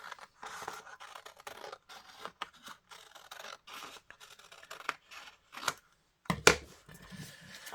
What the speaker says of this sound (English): I'm going to cut out now.